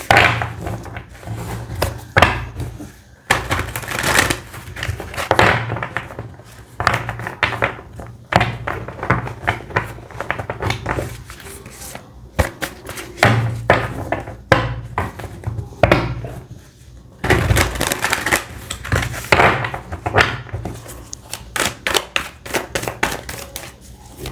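A deck of tarot cards is shuffled in repeated quick riffles and taps, close and fairly loud, with brief pauses between rounds of rapid, rattling card strikes.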